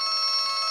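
A mobile phone rings with a steady electronic trill for an incoming call placed through an OpenBSC test network, a bright warbling tone that fills the short moment alone.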